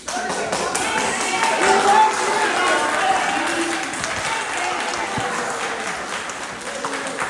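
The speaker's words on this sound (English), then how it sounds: "the people of Searsport deserve our applause, our thanks" Sustained applause from a crowd at a public gathering in Searsport, steady clapping filling the whole stretch with a few voices mixed in.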